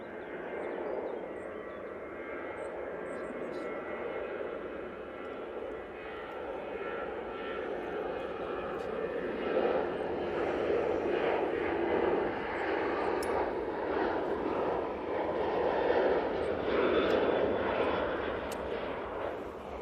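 A Ryanair jet takes off from Manchester Airport, its engine roar building steadily from a distance into a loud sustained rumble that swells toward the end, with no talking.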